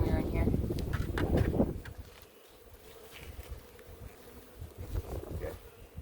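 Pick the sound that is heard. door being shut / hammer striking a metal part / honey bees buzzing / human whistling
honey bees buzzing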